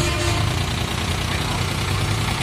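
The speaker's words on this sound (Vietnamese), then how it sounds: "Để cháu nổ máy thử coi." A 2-ton eight-wheel Japanese cart's engine idles loud and close, a steady low chugging rumble held unbroken throughout with no talking.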